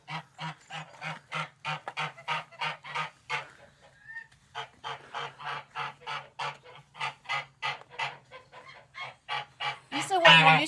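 An amorous gander honks over and over in a steady, loud series of close calls, with a brief pause midway and a rustling burst at the end.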